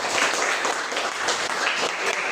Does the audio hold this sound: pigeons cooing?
no